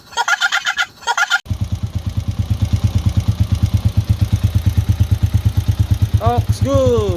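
A Honda TMX 125 motorcycle engine idles after starting, a steady, loud, close, low-pitched putter in an even rhythm, after a few short revs at the start, with voices briefly at the end.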